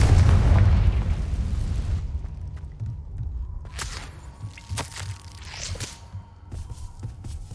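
Confringo fire-blast spell cast in Hogwarts Legacy: a heavy rumbling boom opens the clip and dies away over two seconds, followed by scattered crackles, pops and light footstep-like knocks.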